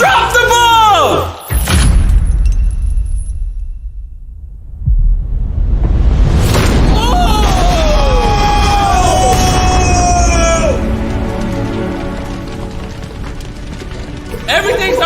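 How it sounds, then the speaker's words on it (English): Bomb explosion with a heavy boom and roaring rumble that sweeps up into a long blast and fire roar, loud and close, while people shout and yell over it. "Fire, a bomb just went off!"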